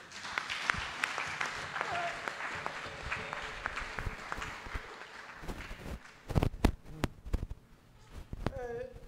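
A church congregation at a worship service applauds together, a dense close patter of clapping that fades out. Sharper scattered claps and voices follow.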